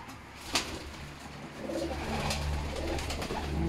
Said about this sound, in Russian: Вечер, кормить буду голубей.